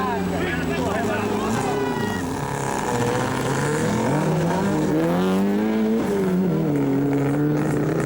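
A rally car's engine revs and drones as it struggles to climb out of a ditch, its pitch rising and falling steadily under a narrator's continuous talk.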